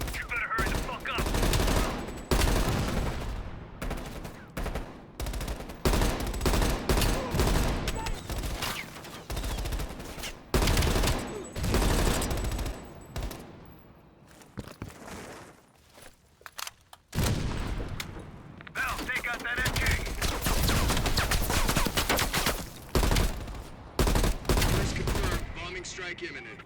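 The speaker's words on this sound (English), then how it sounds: "Heavy MG on the ridge" Heavy machine gun fire in the video game Call of Duty Black Ops Cold War: loud sustained bursts and volleys of gunfire with booming impacts, briefly easing midway before resuming, under intermittent voices.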